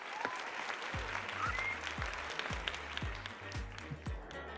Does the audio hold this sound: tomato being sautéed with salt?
no